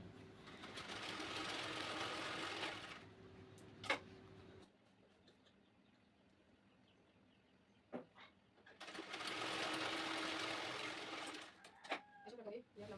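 A sewing machine stitches tucks on the back of a blouse in two faint, steady whirring runs, with a quiet pause between them and a few small clicks and taps.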